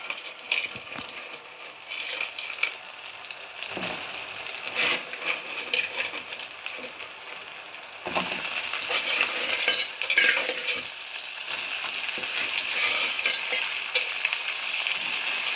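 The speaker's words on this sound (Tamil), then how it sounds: "இப்போ வந்து நம்ம வந்து இந்த நண்டை சேர்த்துக்குவோம்" Crab pieces stirred into fried onions in a pan for a crab gravy, with continuous sizzling and repeated scraping stirs of a spoon against the pan, close and unbroken, no talking.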